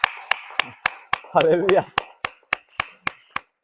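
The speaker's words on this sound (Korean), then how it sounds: "우리 유태순 목사님 우리 위해서 박수 한번 보내" A church congregation at an anniversary Sunday service gives a round of sharp, evenly spaced claps, about a dozen near and distinct, with a spoken exclamation partway through.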